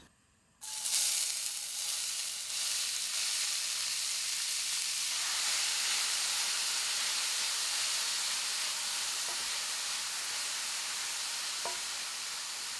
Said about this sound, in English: Spread vegetable oil in a pan and heat the onions on medium heat until transparent.